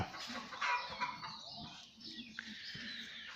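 Native chickens on a farm in Thailand cluck and murmur close by in a steady chatter, with a few sharper squawks among them.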